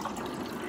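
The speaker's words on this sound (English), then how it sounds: "just need to add the water here" Water pours steadily into a mug to make a hot drink, a close, continuous liquid gush with no talking over it.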